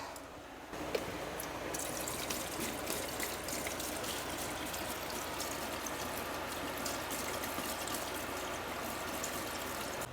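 Coolant poured from jugs into a Cincinnati horizontal milling machine, a steady broadband liquid rush and trickle running continuously and fairly close, with no talking.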